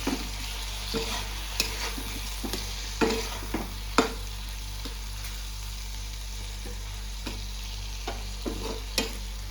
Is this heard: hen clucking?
no